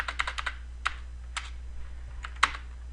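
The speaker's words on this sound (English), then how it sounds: "type the word permissions and a colon" Computer keyboard typing, a quick burst of close, crisp key clicks followed by a few isolated presses with pauses between, no voices.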